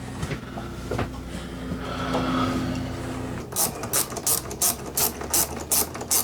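Hand ratchet loosening the cable adjustment nut on a BAL Accuslide RV slide-out room, a run of sharp clicking strokes in quick rhythm after a stretch of quieter mechanical handling and rattle.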